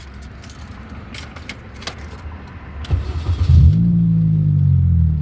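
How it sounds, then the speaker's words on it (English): Keys jangle near the ignition of a 2002–2006 Mini Cooper R50/R53, then the engine cranks and starts, settling into a loud, steady idle rumble close by. "Okay, so let's start the car."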